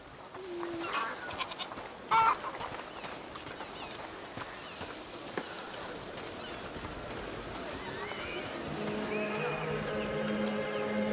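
Goat bleating in the video game A Plague Tale: Innocence, a few bleats over a busy, rustling game soundscape, moderately loud and continuous.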